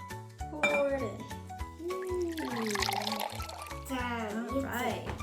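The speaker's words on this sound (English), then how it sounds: "the hot water here, very hot. Be careful. You're gonna pour it in." Hot water poured into a homemade play dough mixture in a bowl, a liquid splash with clinking of dishes and utensils, heard under someone speaking and music playing.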